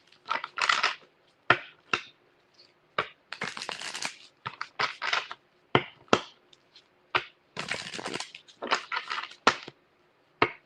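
Tarot cards are shuffled in repeated bursts, crisp riffling and snapping with short pauses between each round, close and fairly loud.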